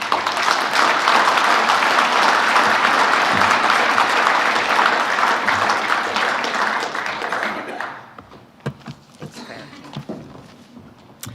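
A conference audience applauds loudly and steadily for about eight seconds, the clapping fading out as a speaker begins talking at a podium.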